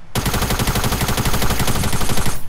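Loud, rapid automatic gunfire from Fortnite rattles in one unbroken burst for over two seconds, close and dominant with no voices.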